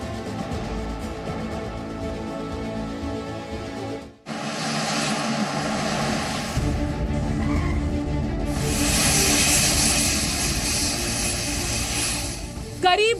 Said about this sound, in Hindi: मतलब एयरफोर्स वन जैसा विमान, एयर इंडिया वन